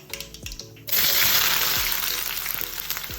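Loud, steady sizzling erupts as chopped onion is dropped into hot oil with popped mustard seeds, following a few clinks and faint crackling pops beforehand.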